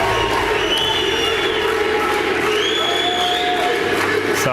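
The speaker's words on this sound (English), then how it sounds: "the French Mafia was loud and proud of their guy, Tony Parker" A big crowd at a San Antonio event cheers loudly for Tony Parker, with a steady roar of whoops and shouts filling the air and people talking within the din.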